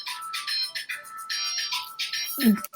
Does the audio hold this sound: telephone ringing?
yes